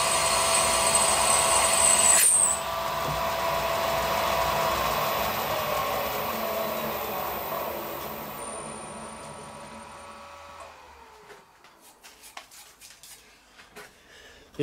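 A power drill whirs steadily at close range, its pitch shifting as it bores a hole for heavy-wall copper pipe, then winds down and stops, leaving a few faint clicks.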